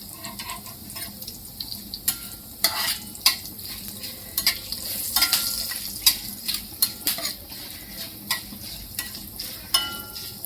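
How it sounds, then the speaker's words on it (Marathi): Spice tempering with asafoetida and turmeric sautéed in a pan, a close soft sizzle punctuated by repeated sharp spoon-against-pan scrapes and clinks at an irregular rhythm, no talking. "हे चांगलं परतून घ्यायचंय।"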